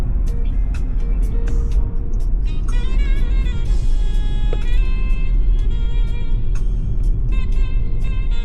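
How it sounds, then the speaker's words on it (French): A car accelerates away from a roundabout on a road limited to 90, its engine rumble loud and continuous, with rising whine tones as revs climb through the gears. "On repart, j'accélère."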